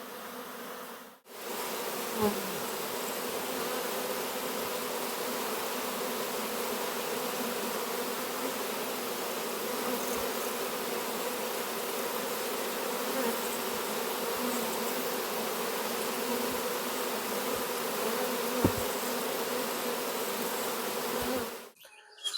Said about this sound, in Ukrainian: сьогодні подивимося, Рій, який залетів до вулика